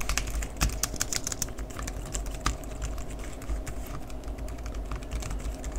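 Someone types on a CHESONA wireless keyboard with fairly quiet keys, giving a steady stream of soft, rapid clicks close by with no talk over them.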